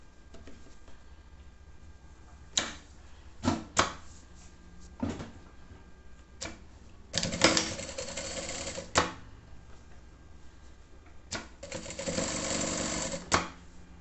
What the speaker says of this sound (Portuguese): Aí agora eu vou passar a costura fazendo a barra aqui em cima